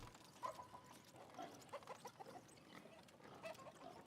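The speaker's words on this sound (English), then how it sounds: "Sounds like pigs." Pigs grunting in the city-building game Ostriv, short irregular grunts and squeals scattered over a soft farmyard ambience with faint bird calls, quiet and moderately close.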